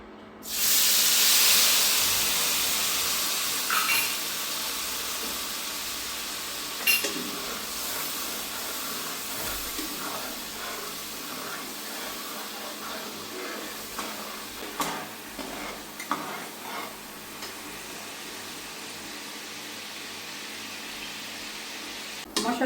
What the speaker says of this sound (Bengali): এখন ফ্রাই প্যানে ঢেলে দেবো।